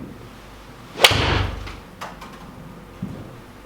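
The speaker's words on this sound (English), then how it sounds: "So let's hit a shot." A Ping iron strikes a golf ball in one sharp, loud crack, followed by a brief fading whoosh and a couple of faint knocks afterward.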